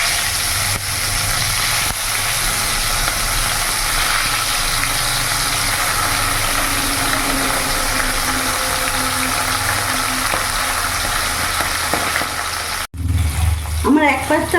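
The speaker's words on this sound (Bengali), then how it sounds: "তেল গরম হয়ে গেছে, এবার আমি মাছগুলো ভেজে নেব।" Fish sizzles in hot mustard oil in a pan, giving a loud, dense, continuous frying hiss close up. It cuts off briefly near the end, and a faint voice follows.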